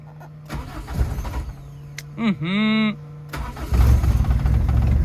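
An old car's electric self-starter gives a brief rising whine before rough engine noise takes over, fairly close, with people talking around it.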